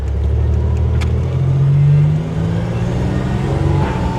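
A 1987 Buick Grand National's engine revs hard and close with a steady, deep drone, rising to a strained peak midway before settling back into a rough, loud idle-like roar.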